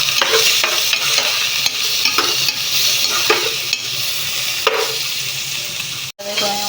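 Garlic and onion fry in hot oil in a pan for Filipino dishes like adobong sitaw. A loud, steady sizzle continues throughout, broken by repeated scraping and stirring strokes close by.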